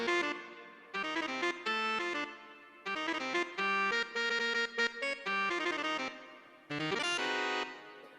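An alto saxophone melody rendered as playback from Sibelius notation software, a run of bright synthetic notes in several phrases broken by brief gaps, steady and clean with no talking.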